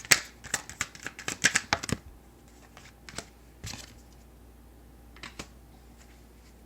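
Tarot cards riffled and handled in a quick burst of crisp, close flicks and snaps, then a few scattered taps and slides as cards are drawn, with no talking.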